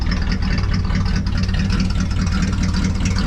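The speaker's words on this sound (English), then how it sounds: "see if we can make that idle even a little more crisp" A 1974 Ford truck's big block 390 FE engine idles steadily up close, a low rumbling chug with a rough, even texture and no voices.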